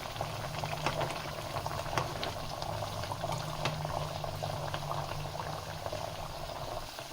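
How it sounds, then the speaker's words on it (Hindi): Almond and sesame tikki frying slowly in oil over a low flame, a steady bubbling hiss with soft crackles, continuous and close throughout, no voices. "ये जो टिक्की है वो अंदर से भी अच्छे से फ्राई होनी चाहिए"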